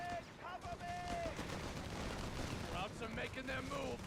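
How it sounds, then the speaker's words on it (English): Machine gun fire and distant explosions rumble through a Company of Heroes 3 battle in steady, dense bursts beneath a commentator's continuous talk. "MG lighting up the forces"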